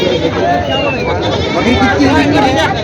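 Goats bleating at a crowded livestock market in Vasmat, Hingoli district, with repeated overlapping wavering calls from several animals amid constant crowd chatter and market din.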